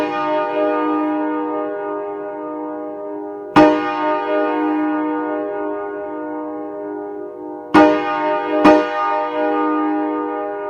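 Nathan AirChime K5A five-chime horn with 3A and 4A bells, played as a piano simulation: a long sustained chord sounds, then is struck again three more times with sharp attacks, ringing steadily and loud.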